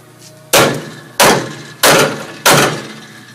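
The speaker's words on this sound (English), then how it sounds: "I gotta hammer this out of the way" Four loud, sharp metallic hammer blows strike car trunk body sheet metal at an even, unhurried pace, each ringing briefly before the next.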